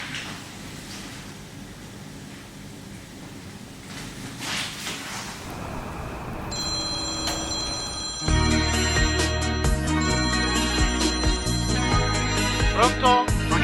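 A telephone rings as a call is placed, with trilling rings over light background sounds, followed by a louder burst of music and other sounds that takes over the second half.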